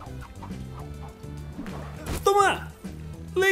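A chicken in the Lego Worlds video game clucks in short, sharp bursts over looping game music, with someone talking excitedly at the same time.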